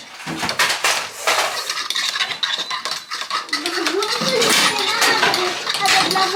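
Omelette ingredients of eggs, peppers and onions being mixed in a bowl, a steady clinking and rattling of utensil against the bowl, close and busy, with people talking over it.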